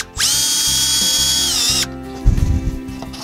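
A power drill drives a screw into a soffit connector, whirring steadily for about a second and a half at close range, then a few clunks and rattles from the metal connector follow.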